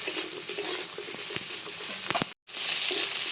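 Okra sizzles steadily in a pan with onion, ginger, garlic and spice masala, a close, even hiss with light stirring scrapes and a brief dropout near the end.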